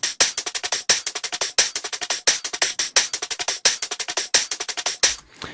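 A neurofunk drum and bass top-layer loop, heavily compressed in the highs, plays alone as rapid, bright, hissy hits in a steady repeating pattern with strong accents every bar.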